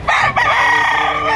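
A rooster crows at a busy open-air chicken market in Lipa City, Batangas, one long loud call that carries right through to the end over a constant backdrop of market noise.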